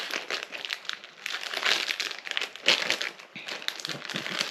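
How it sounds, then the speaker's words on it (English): Plastic zipper bag crinkles and rustles steadily as it is pressed and squeezed to push air out, close up, with no talking. "I'm gonna try and get the air out."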